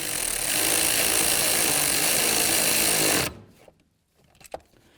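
Power tool running bolts on a 1998-2002 Honda Accord rear strut mount, a loud sustained whirring burst lasting about three seconds, then cutting off to near silence with a few faint clicks.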